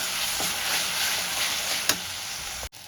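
Tomato-based masala with turmeric, salt and red chilli powder frying in a pan, a steady close sizzle and hiss with a sharp scrape of the spoon near the end before it cuts off abruptly.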